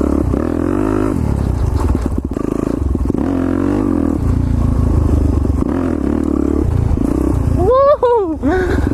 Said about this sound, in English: Yo, it's straight slipping, sliding out here with the Supermoto.